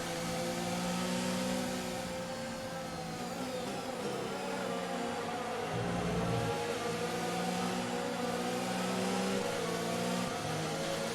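A Formula 1 car in the F1 2019 racing game holds a steady, loud engine drone through a practice start, its pitch shifting slightly as the revs rise and dip, continuous and close with no talking.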